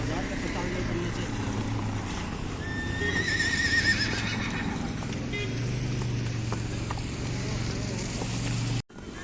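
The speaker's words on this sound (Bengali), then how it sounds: "আমি এখন ঘোড়ায় করে যাচ্ছি" A horse whinnies in a rising, wavering call partway through, with hoof clops and steady wind noise on a mountain trail ride from Solang Valley to Anjani Mahadev, and faint voices in the background.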